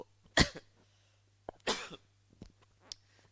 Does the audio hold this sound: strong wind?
no